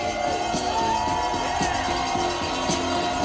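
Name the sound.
crowd cheering for a ski jumper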